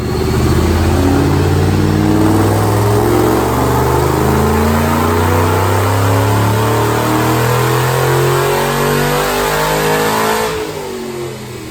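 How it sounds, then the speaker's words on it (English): A 2007 manual Mustang with a Paxton supercharger on a stock engine, running 93 octane pump gas, roars loud and close through a sustained rising full-throttle pull on a chassis dyno, then drops off sharply near the end. "Watch this dyno pull."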